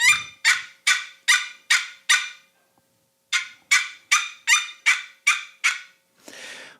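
A hand call imitates a turkey hen with a quick run of six sharp, evenly spaced yelps. After a short pause comes a second, longer run, and a brief rasp closes it.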